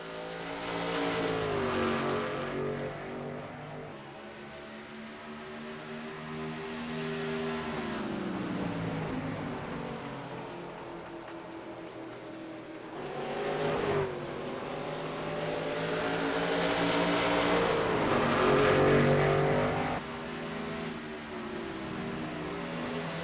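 Racing truck engines in a racing video game at New Hampshire, two trucks battling closely for third place, the engines rising and falling through gear changes and swelling louder at times as they pass.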